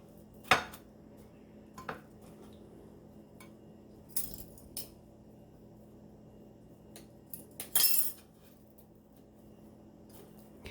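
A metal pan is set back onto a stovetop with a few scattered clanks and clinks, sharp and close, separated by long quiet stretches, the loudest a brief rattling knock near the end.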